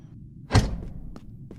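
A door opening in a sewer-escape horror survival video game, a single dull close thunk followed by two faint, brief knocks.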